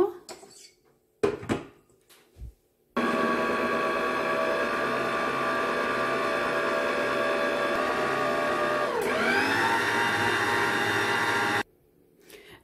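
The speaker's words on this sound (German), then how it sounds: "Das Ganze wird nun jetzt gemixt." An electric hand mixer whirring steadily through eggs, 300 grams of sugar and half a teaspoon of salt for muffin batter, loud and close for about nine seconds, its pitch dipping briefly as the beaters shift, then cutting off abruptly.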